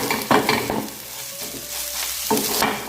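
Prawns being stirred in a pan as they ghee-roast, with a spoon scraping and tapping against the pan over a steady soft sizzle of frying, in a few close, distinct strokes.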